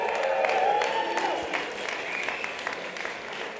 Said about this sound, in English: Let's give our first winner a big round of applause.